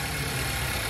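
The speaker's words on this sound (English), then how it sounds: "Nice low revs because the engine's warm" A warm 1.5 Evo car engine with a rough-running air leak fault idles at low revs, a steady close, low mechanical hum and throb without any speech.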